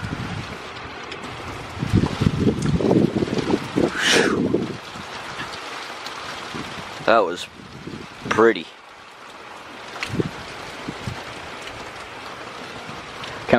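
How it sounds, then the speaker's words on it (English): Derecho wind gusting across a microphone outdoors by a porch, a broad rumbling roar that surges and buffets in waves, with a person talking briefly and a few sharp bird-like chirps. "Hear all the wind noise that's going through the mic."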